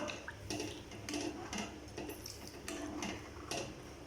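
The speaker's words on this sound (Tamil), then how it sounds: "மெதுவாக வந்து இந்த மாதிரி கிளறி கொடுத்துட்டே இருக்கலாம்" Slow, steady stirring of thick sago halwa in a pan, soft repeated scrapes and light ticks of the spoon against metal, close but quiet, with no talking.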